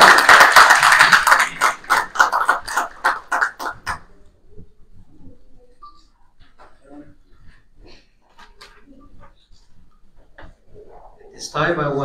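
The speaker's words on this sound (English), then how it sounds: "Round of applause." A small group applauds after a memo signing at a business roundtable, a few seconds of loud, distinct claps that thin out and stop, followed by quiet room noise, soft murmurs and a cough.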